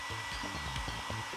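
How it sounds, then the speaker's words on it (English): Hair dryer blowing a steady airstream over kyudo (Japanese archery) arrow fletching, a constant close whir with a low fluttering pulse underneath, alone and without talk. "We then took some fletching and placed it in the airstream of a hairdryer."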